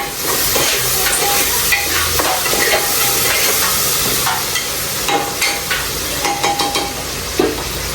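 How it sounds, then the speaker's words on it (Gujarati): Garlic sautés in hot oil, giving a steady close sizzle and hiss with occasional stirring scrapes and clicks throughout, no voices heard. "ઓકે આમ થોડા તેલમાં લસણ સાંતરવા દે"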